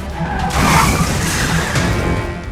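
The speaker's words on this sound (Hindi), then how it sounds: "देखिए कैसे अचानक ये कार आई और 360 डिग्री घूम गई" A car suddenly spins a full 360 degrees in the MBNS mall underpass in Gurugram, its tires screeching loudly across a sustained, noisy skid that fills the clip.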